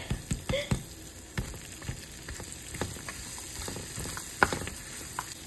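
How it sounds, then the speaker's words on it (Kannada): Grated coconut roasts in a pan for laddu, a quiet dry sizzle broken by scattered light clicks and scrapes of a stirring spoon, close by, with no one speaking. "ನಾನೀಗ ಇದಕ್ಕೆ ಸ್ವಲ್ಪ ಕೊಕೊನಟ್ ಕೂಡ ಹಾಕ್ಬಿಡ್ತೀನಿ. ಇದು ಕೂಡ ಚೆನ್ನಾಗಿ ರೋಸ್ಟ್ ಆಗಲಿ"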